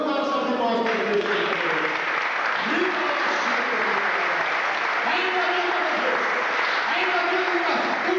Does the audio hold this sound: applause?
yes